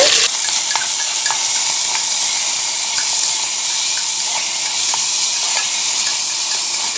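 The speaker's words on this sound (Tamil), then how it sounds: "சிக்கனை சேர்த்துக்கலாம். இப்போ எல்லாம் ஒன்று சேர நல்லா வதக்கி கொடுத்துக்கலாங்க." Chicken stir-fried in hot oil for chicken kuzhambu curry makes a loud, continuous sizzle close by, with repeated scrapes and taps of the stirring spoon against the pan throughout, and no voices.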